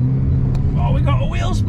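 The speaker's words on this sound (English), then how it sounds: "Oh, we got a wheel spin!" Car wheels spinning as the driver pulls away, a loud steady low engine rumble throughout with rising higher whine and tyre squeal toward the end.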